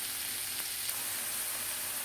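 Ground beef frying in an oiled pan with onions, a soft, steady sizzle and crackle heard close up with nothing else over it.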